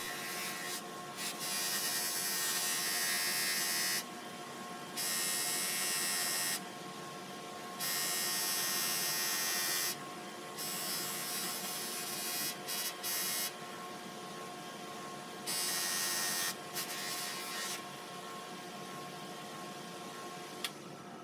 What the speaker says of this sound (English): Now I'm going to use the fine buffing wheel on both the blade and the handle.